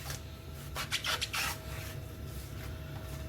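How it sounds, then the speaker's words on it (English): A knife slices a leek lengthwise down the centre, a few soft crunchy cutting scrapes standing out briefly over a low steady background hum, quiet and close, with no talking. "we're going to cut that down the centre"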